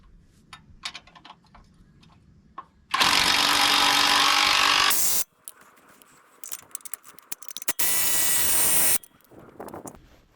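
Bolts are tightened on a disc mower during a PTO bearing install, with two long, loud, harsh bursts of tool noise separated by quieter scattered clicks and ratchet-like ticks.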